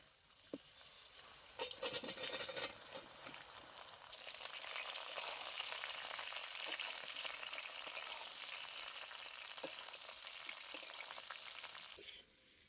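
Jujubes frying in hot oil with a five-spice tempering, chili and three bay leaves: a steady close sizzle that swells after the fruit drops in, with clinks and stirring scrapes scattered over it.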